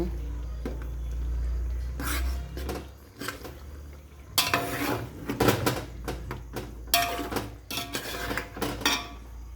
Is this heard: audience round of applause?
no